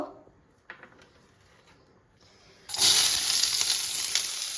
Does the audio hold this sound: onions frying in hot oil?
yes